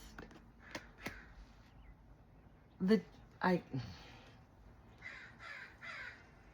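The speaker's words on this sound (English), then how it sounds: "You hear that, crow?" A crow caws several times outdoors, harsh bursts in small clusters at moderate distance, with a person talking over parts of it.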